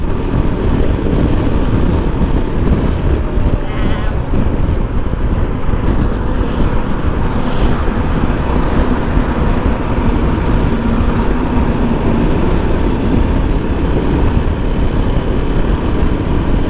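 Royal Enfield Himalayan 450 motorcycle ridden at night, a steady loud engine drone blended with heavy wind rush across the microphone, continuous and unbroken throughout.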